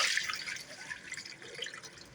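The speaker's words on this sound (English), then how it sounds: "when I shut the tap off, dump the water into the sink" Tap water runs into a kitchen sink with a steady, bright hiss and splatter at moderate closeness, continuous for the whole stretch with no voices.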